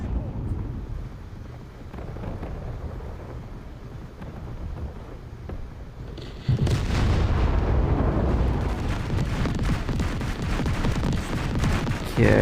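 Heavy naval gunfire from a Kronshtadt battlecruiser in War Thunder Mobile, low booming blasts and rumble that swell sharply halfway through and stay loud and dense, with a voice briefly talking over the action.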